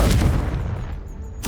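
A Confringo spell explosion in Hogwarts Legacy: a heavy booming blast that rumbles and fades over a second, ending with a brief bright swish.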